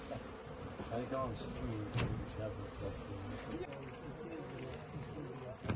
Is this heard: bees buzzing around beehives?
yes